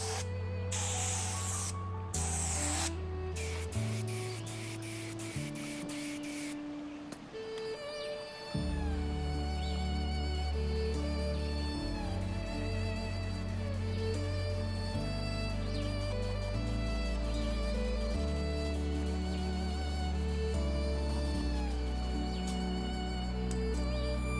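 An HVLP paint sprayer with a 1.8mm tip at about 45 psi sprays sealer, hissing continuously and loudly for the whole stretch, a broad steady spray noise with brief pauses and tonal hum from the equipment.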